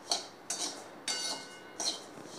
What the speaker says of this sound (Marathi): आता जे जिरे आणि धने आहेत ते आपण कमी गॅसवर पूर्ण खरपूस होईपर्यंत भाजून घेणार आहोत।